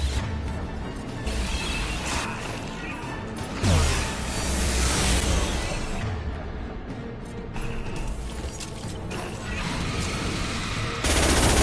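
Sustained gunfire in a Mass Effect firefight, dense bursts of automatic shots and impacts with whooshes and a heavy boom, loud and continuous throughout, with no talk over it.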